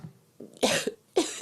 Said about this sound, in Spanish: No me gusta esa tos.